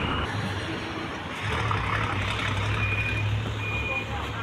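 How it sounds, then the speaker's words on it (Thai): At a roadside accident scene on the CVD curve of the Chonburi bypass, a crane truck maneuvers to lift an overturned ten-wheel truck carrying scrap metal. Its engine rumbles steadily while high reversing beeps sound intermittently, with a voice faintly underneath. "นำรถเคนเพื่อที่จะยก รถสิบล้อขึ้นนะครับ"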